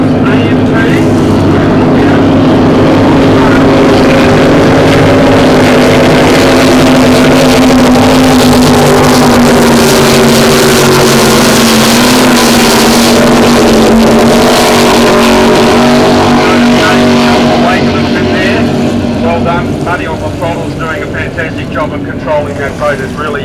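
Loud, sustained roar of racing powerboat engines, 600 horsepower class, passing close with a droning tone that swells and slowly fades, while a commentator talks over it.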